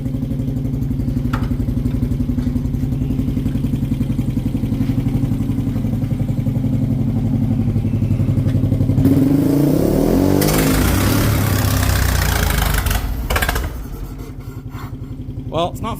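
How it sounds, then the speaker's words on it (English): A 1912 racecar engine with a float that won't hold sputters into life under throttle and choke, a steady low chugging rumble that surges louder partway through, then drops back to a rough idle. "So if I give it just a little bit of throttle and choke again, it should just start."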